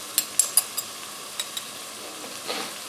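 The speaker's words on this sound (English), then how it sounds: "We'll stir this along with the aromatics, and we'll continue to let the onions and the peppers saute a little bit." Onions and peppers sauté with ground ginger and curry powder in a pan: a soft, faint sizzle with a few sharp scraping clicks from stirring, close and quiet, with no voices.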